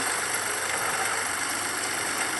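Motorcycle engine running at speed, a steady droning roar with constant wind rush, close and unbroken throughout.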